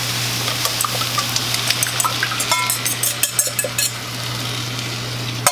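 Beaten eggs go into a hot pan with spinach for a frittata and crackle in a bright, continuous sizzle, with scattered spits and a few light clinks of a utensil against the pan, close up and without talk.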